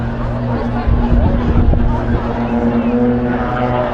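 Aerobatic display aircraft fly over an outdoor proms event at Belton House, a broad engine drone rising and swelling in the distance beneath crowd murmur and a public-address voice.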